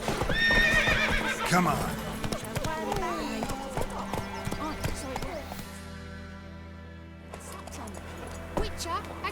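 Roach the horse in The Witcher 3 gallops with rapid clip-clopping hooves and whinnies loudly near the start, then the hoofbeats slow and fade, while someone speaks briefly over the sound.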